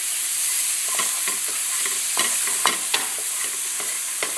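Onions caramelised with half a teaspoon of sugar fry and brown in a pan, a steady close sizzle with occasional stirring scrapes and taps, no talking.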